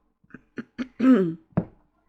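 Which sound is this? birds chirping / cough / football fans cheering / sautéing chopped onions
cough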